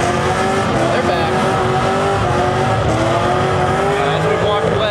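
A car at a Cars and Coffee gathering does a burnout, a loud, continuous engine roar with tire squeal held for several seconds and voices nearby.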